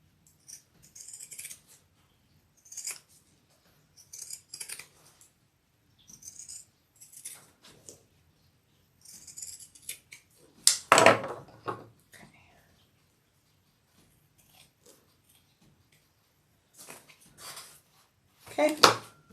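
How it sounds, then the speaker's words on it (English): Pinking shears cutting through fabric, a series of short, crisp snipping bursts in an irregular rhythm with pauses between them, close by and fairly quiet, plus a couple of louder clunks. "I'm going to use my pinking shears."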